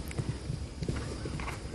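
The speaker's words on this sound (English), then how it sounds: "Oh, here comes the gray horse." Hooves of a gray horse moving around the arena at a hunter jumper show, a steady run of soft, low thuds close by over a busy background hum.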